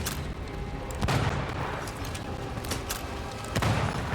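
Gunfire in the video game Banishers: Ghosts of New Eden rings out as two sharp, booming shots about two and a half seconds apart. A dense, rumbling in-game soundscape runs underneath.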